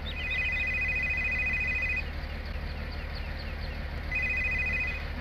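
A game phone rings in two bursts of an electronic trill over a low steady hum, placing a call in a Farming Simulator 19 roleplay session, with no talking heard.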